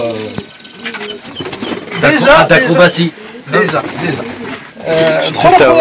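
Pigeons cooing in soft, rolling, throaty calls, several birds close by, with someone talking briefly over them.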